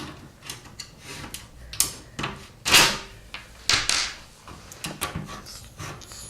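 A Phillips screwdriver backs screws out of the end cap of an upside-down Razorback paper trimmer, giving a close series of scattered mechanical clicks, knocks and short scrapes with quiet gaps between them.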